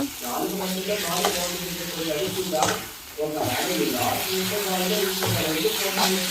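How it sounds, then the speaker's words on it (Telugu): Boiled gongura leaves being stirred into a curry in a pan, giving a steady wet sizzle and soft stirring scrapes that run throughout with brief dips. "అది తీసి అందులో వేసేసి ఒక్కసారి కలుపుకున్నాను"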